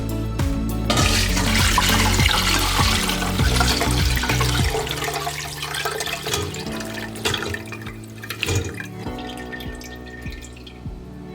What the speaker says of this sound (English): we're going to take it over to our sink and strain it